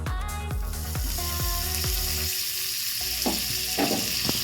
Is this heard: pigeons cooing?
no